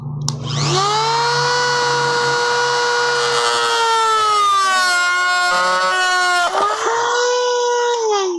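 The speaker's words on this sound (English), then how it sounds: "Dremel tool and a fiberglass reinforced cutoff wheel" A Dremel rotary tool spinning a fiberglass reinforced cutoff wheel as it cuts a plastic armor piece, giving a loud, steady high-pitched whine that holds for several seconds, dips briefly, then continues.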